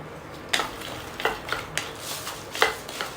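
Makhana and puffed rice roast in ghee in a pan on a low flame, with a soft steady sizzle and a few distinct scrapes and clinks of a spoon stirring, near and without talk.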